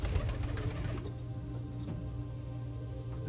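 Birmingham roller pigeons coo softly inside a loft holding twenty-odd birds, their low murmuring steady against a constant background hum, with a few brief calls rising near the end.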